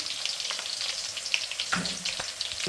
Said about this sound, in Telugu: ఆనియన్స్ అలా వేగాలండి